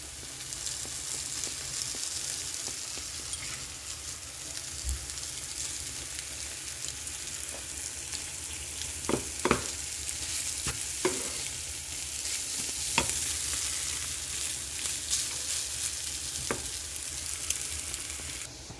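Drained Maggi noodles are stirred in a hot pan, a continuous soft sizzle with intermittent scraping strokes and light knocks from the spoon, near and moderately quiet.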